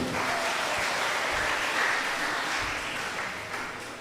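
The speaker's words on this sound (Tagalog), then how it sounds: "palakpak tayo po yung Father Paul" A crowd at a serenata benefit event applauds a priest, a soft, steady wash of many hands clapping, heard at some distance and fading slightly toward the end, with no talking over it.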